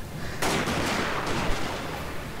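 Marines in Shogun 2 Fall of the Samurai fire a volley of rifles: a sudden burst of massed shots rolls into a crackling, rumbling spread of fire that fades slowly, with no talking.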